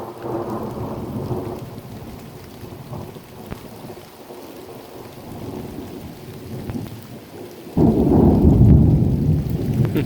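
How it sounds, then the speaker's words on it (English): Rain patters steadily through a warm March thunderstorm while low thunder rumbles in the distance, then a loud, close crack and heavy rolling boom break out near the end. "March thunderstorm."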